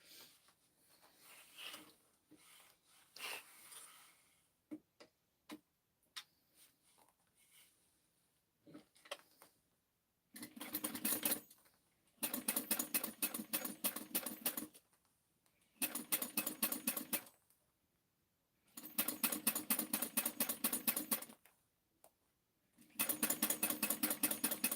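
A sewing machine runs in bursts while top stitching a garment seam, five loud sustained runs of rapid mechanical stitching separated by pauses, after a quieter stretch of handling and fabric noises.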